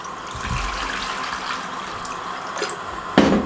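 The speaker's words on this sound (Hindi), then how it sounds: "इसके साथ का पैन चढ़ा दिया, पानी डाल दें।" Water pours steadily into a pan nearby with a continuous splashing gush, ending with a short clatter.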